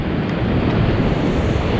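Ocean waves wash onto the shore at Ocean Beach, San Diego, a steady broadband rush of surf with wind buffeting the microphone, continuous and fairly loud with no voices.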